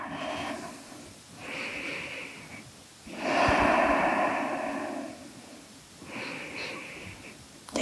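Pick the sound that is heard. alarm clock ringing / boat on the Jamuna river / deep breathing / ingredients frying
deep breathing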